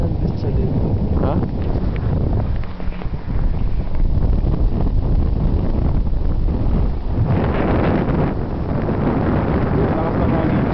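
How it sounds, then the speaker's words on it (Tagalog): Strong wind at a ski area chairlift buffets the microphone in loud, continuous gusts, a rough roaring rush with voices speaking faintly beneath it. "Lakas ng hangin."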